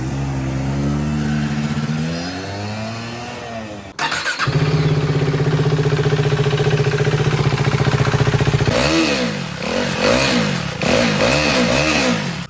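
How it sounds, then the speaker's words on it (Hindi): KTM Duke 390 Gen 2 motorcycle on its stock exhaust, revving up and down close by, then settling into a sustained high drone and finishing with several quick throttle blips. "ये एग्जॉस्ट है जो कि स्टॉक है बिल्कुल"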